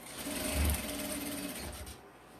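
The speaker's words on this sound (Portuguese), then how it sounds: "Vou posicionar na máquina e vou costurar meu viés aqui" A sewing machine stitches bias binding around the edge of a hygiene kit piece, its motor whirring in a short steady run that fades as the stitching stops.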